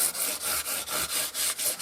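600-grit sandpaper rubbed lightly over the wooden neck of a 1977 Ibanez MC 300 Musician guitar, a close, rhythmic back-and-forth scratching of about eight quick strokes, heard alone.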